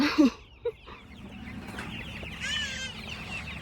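Meat chickens cluck and chirp inside a chicken tractor on pasture, with a few sharp close calls at the start, then a steady murmur of many birds softly clucking in the background.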